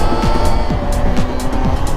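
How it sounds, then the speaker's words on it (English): Several engines rev hard at a Miami street ride-out where cars swerve among Surrons and dirt bikes doing wheelies; repeated rising and falling throttle sweeps ride over a dense, loud, continuous motor roar. "I'm seeing people swerving cars doing wheelies."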